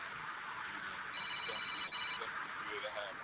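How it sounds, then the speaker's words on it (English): A mobile phone rings once with a short, thin electronic tone lasting about a second, faint against a quiet room background. "Damn, that boy's phone jumped like he in a trap house."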